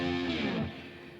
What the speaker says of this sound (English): Got a nice distortion sound today.